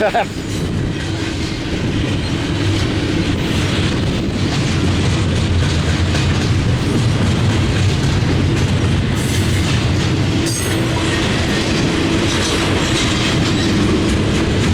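Freight train with NS locomotive 4388 rolling past up close, a steady loud rumble with rhythmic clickety-clack of wheels on rail joints, a voice speaking briefly over it.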